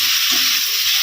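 Ridge gourd cooking in a pan gives a steady, loud sizzling hiss that holds evenly throughout a single brief moment.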